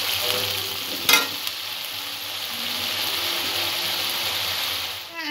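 Steady broadband sizzle of food frying in a pan, with a sharp utensil clatter near the one-second mark and a few light stirring knocks over the constant hiss.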